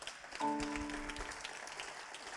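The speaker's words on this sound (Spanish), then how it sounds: "Dale un aplauso." A church congregation breaks into faint, scattered clapping that swells quickly and then carries on softly, with a sustained musical tone sounding underneath.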